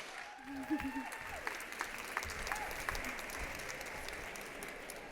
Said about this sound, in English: give her a huge round of applause for her first keynote speech